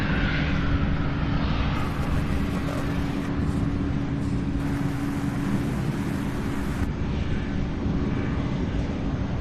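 At Louisville International Airport near the UPS Worldport, a large freighter airliner, an MD-11 or Boeing 757, gives off a steady low engine rumble with a broad roaring wash at moderate distance and no speech.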